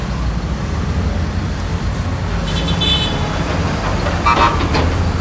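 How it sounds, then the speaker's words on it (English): Car horns toot intermittently on a busy street in Lima, Peru, rising over constant traffic and engine rumble, with a cluster of louder honks near the end. "So much honking."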